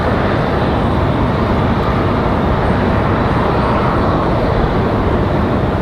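A Republic Airways jet bound for Nashville departing Raleigh-Durham International Airport at night, a loud, continuous broadband engine roar filling the whole stretch without letup.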